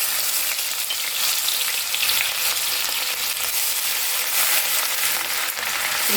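Chopped ginger sizzles in hot oil for an egg chilli, a steady, dense frying hiss that holds close and loud throughout with no talking.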